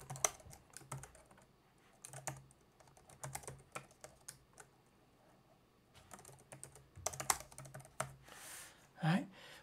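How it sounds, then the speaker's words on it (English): Keys clatter on a computer keyboard in quick bursts of typing with short pauses between runs, fairly close and clear, with no talking over them. "I have the hardest time typing some days"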